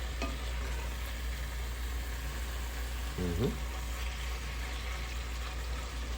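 Pork frying in a pan with garlic and bay leaf for Filipino adobo, a steady, even sizzle with a low hum underneath and a brief stir partway through.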